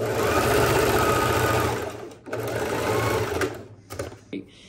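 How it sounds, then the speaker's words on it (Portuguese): A sewing machine stitches a straight seam with a backstitch on suede knit fabric, a loud continuous mechanical whir that pauses briefly near two seconds, resumes, then breaks into short stop-start bursts at the end. "aqui eu vou fazer uma costura reta com 2 centímetros e com retrocesso"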